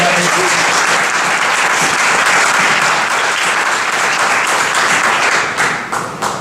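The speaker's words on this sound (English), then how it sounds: "I think the audience, give yourselves applause." An audience applauds at a mobile technology meetup after a panel on the Open Web Device and Firefox OS, with dense, loud, continuous clapping that tapers slightly at the very end.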